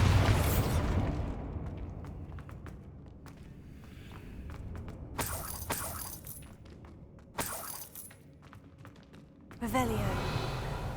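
The Bombarda blasting spell in Hogwarts Legacy goes off as several sharp bursts with crackly debris spread over the clip. Footstep-like sounds and a voice are heard among them.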